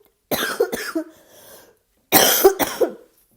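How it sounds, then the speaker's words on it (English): Two bursts of harsh, close coughing, each a quick pair of hacks, separated by a short pause with a faint breath. "Excuse me, I'm still coughing."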